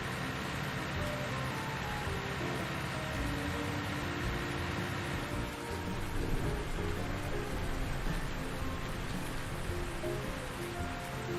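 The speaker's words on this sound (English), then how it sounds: "Oh no, it's raining." Rain falls steadily in a farming video game set in West Texas, a continuous even hiss of drops that swells slightly halfway through, with no talking over it.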